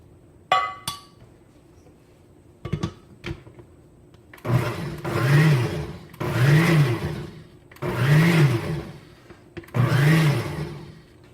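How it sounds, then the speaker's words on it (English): After a few clinks of utensils, a blender whirs in four loud bursts of several seconds each, pureeing leek and potato soup, with short pauses between pulses. "now we're going to scoop this up a little bit at a time and puree it"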